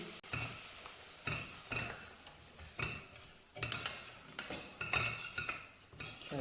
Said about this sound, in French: Une fois notre beurre fondu, on va rajouter notre farine, voilà, et la mélanger.